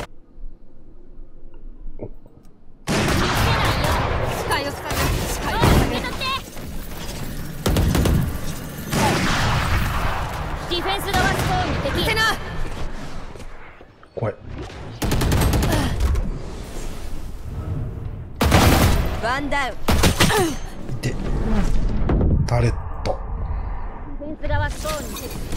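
Odin machine gun fire in Valorant, repeated long bursts of rapid shots with booms and impacts, loud and mixed with people talking throughout.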